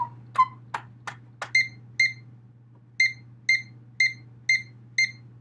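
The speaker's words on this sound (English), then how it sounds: "When the bubble is right in the center, it will beep." A phone bubble level app sitting on a turntable beeps in a series of short electronic tones, a few sharp clicks first, then evenly spaced tones pulsing at a steady rhythm over a low constant hum.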